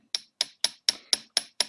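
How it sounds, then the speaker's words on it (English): Rapid steady tapping of a hammer driving a chisel through metal during traditional hand engraving, seven sharp evenly spaced strikes with a bright ringing edge, close and alone with no talk. "I did tell you earlier that I was using hammer and chisel."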